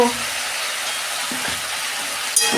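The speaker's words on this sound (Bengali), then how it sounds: "এটা আমি ভালো করে কষাবো" Radish, potato and eggplant with ginger garlic paste frying in a pan, a steady close sizzle with a couple of soft stirring knocks and a brief hiss near the end, no talking.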